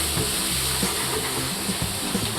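Onions fry in a pan, a steady close sizzle and hiss throughout with faint bubbling, no speech.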